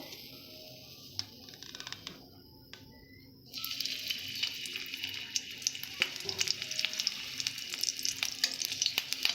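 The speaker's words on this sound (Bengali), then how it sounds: "কাঁচা লঙ্কা ভালো করে ভেজে নেব" Green chilies and black cumin seeds fry in oil as the base for a cabbage dish, starting as a quiet crackle with scattered pops, then swelling into a louder, busier sizzle with sharp spitting crackles. No voices are heard.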